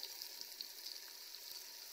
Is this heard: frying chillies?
yes